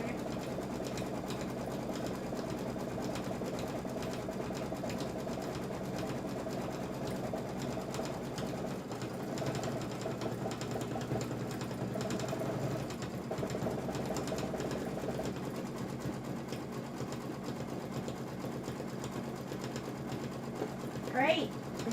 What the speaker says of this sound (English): Okay, so we're going to sew those two together.